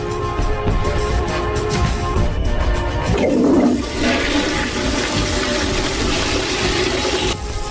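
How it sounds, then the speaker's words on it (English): A toilet flushes in an animated short, a loud rushing gush of water that swells midway and drains steadily for several seconds before cutting off. "Let's flush the toilet right now."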